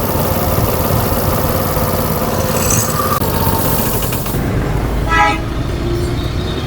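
A motorcycle engine runs steadily and loudly during an oil pump check in a repair shop, holding a constant idle drone with a brief higher-pitched tone near the end.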